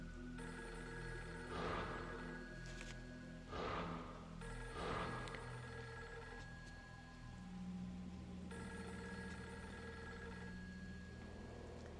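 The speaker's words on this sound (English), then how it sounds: "Yeah, I hear the phone." A telephone rings repeatedly in Fatal Frame 3, its bursts of ringing sounding against a steady hiss like rain and a low game ambience, with no speech.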